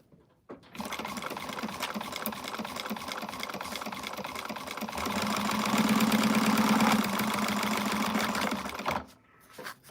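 A sewing machine stitches a slouchy shoulder bag in steady mechanical bursts, running continuously and growing louder and denser midway before stopping abruptly near the end; no one speaks.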